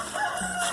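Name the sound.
rooster crowing in a chicken coop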